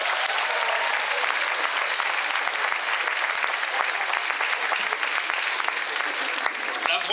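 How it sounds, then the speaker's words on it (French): A show audience gives a singer a sustained round of applause, loud continuous clapping filling the room evenly from start to finish, with faint crowd voices mixed in. "Un tonnerre d'applaudissements pour Louise."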